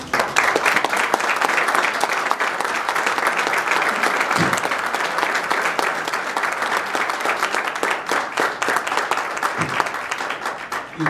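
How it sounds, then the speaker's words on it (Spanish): Sustained applause from a press conference audience at a pro audio industry expo, dense steady clapping close by with a few louder individual claps standing out. "Y eso es para aplaudir."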